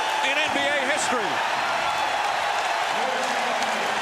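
A Boston Celtics home crowd at a 2002 Eastern Conference Finals Game 3 against the New Jersey Nets roars loud and unbroken, with shouts and whistles rising over a steady wall of cheering.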